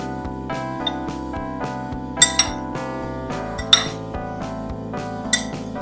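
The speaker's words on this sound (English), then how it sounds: "Okay, we're just gonna stir this around." Sugar and cinnamon stirred in a glass bowl, a spoon clinking against the glass a few times in bright, close taps over a steady low background hum.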